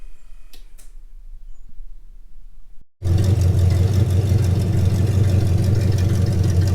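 A 3rd gen Camaro Z28 street/strip engine is cranked after a short quiet stretch, then catches and roars into a loud, steady idle close by.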